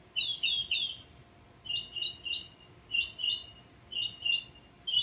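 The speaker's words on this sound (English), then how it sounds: "Can you hear that bird in the background?" A small bird chirping outdoors near a blooming Echinopsis cactus. Quick bright chirp clusters repeat about five times at an even pace, moderately faint and distant, over quiet ambience with no talk.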